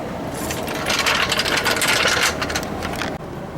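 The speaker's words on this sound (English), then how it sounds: "here's the socket wrench, the socket from my wrench, jacking up that spring" A ratchet socket wrench clicks and scrapes steadily as it jacks up a spring during a car water pump replacement, with a dense run of close metallic ticking that ends in a sharp knock.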